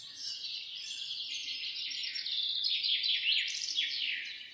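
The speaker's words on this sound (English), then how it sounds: "Blue jay." Blue jay calling, a steady run of bright, high chirping notes that carry on for several seconds, fairly close and clear over faint background hiss, with no voices.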